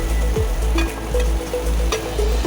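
Onions frying with ginger garlic paste in a pan for a chicken masala curry, a loud continuous sizzle with a few stirring scrapes and clinks.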